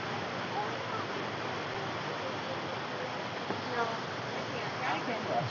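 Steady, dense roar of a waterfall in the Watkins Glen gorge, continuous and unbroken at an even loudness, heard from fairly close with no other sounds standing out.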